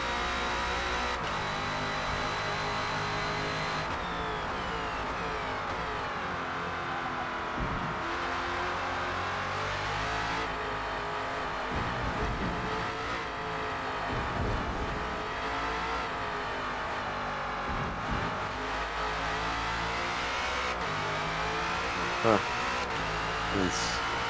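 Sustained race car engine from a #17 Ford Falcon FG X in Forza Motorsport at Indianapolis GP circuit, droning loud throughout with rising and falling revs through gear shifts and corners, occasional tire noise, with a voice talking over it.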